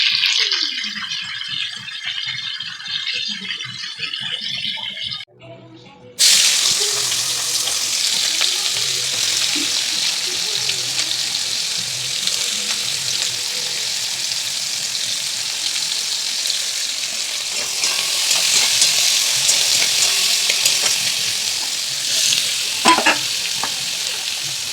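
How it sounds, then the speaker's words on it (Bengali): Potatoes frying in a pan for a Sunday home meal, a steady loud sizzle running throughout after a brief quieter start, with occasional stirring scrapes and no talking. "আলুটা ভেজে নিই।"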